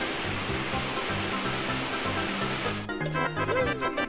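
In the Banjo Kazooie video game, water drains away in Freezeezy Peak with a loud, steady rushing wash. After about three seconds it cuts off abruptly, leaving only the game's background music.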